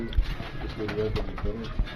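Pigeons in a crowded loft coo and shuffle nearby, with low throaty calls and a few soft thumps, while a person talks in the background.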